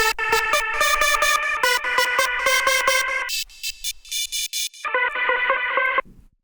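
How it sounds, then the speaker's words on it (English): A hard house wavetable synth lead runs through multi-band distortion, its mids and highs crushed separately, and a little delay sits on it. A fast pattern of gritty, loud stabs thins out to sparser hits, then cuts off sharply. "So then we add this multi-band distortion."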